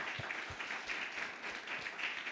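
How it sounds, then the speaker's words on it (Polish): Faint, steady applause from an audience at a church and democracy workshop in Lublin, a soft wash of many hands clapping at a distance. "wielkie też oklaski"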